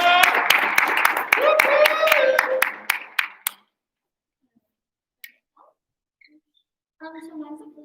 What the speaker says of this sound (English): Claps again for Tatum.